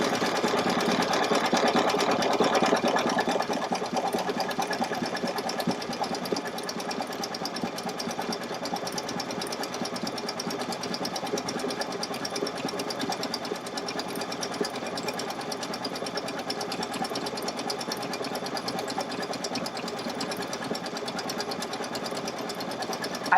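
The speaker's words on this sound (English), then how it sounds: "I've increased my speed for this satin stitch" A sewing machine runs at increased speed while stitching a dense satin stitch over an appliqué on a table runner, producing a continuous rapid whirring hum that is a little louder at the start and then stays steady, with no voices.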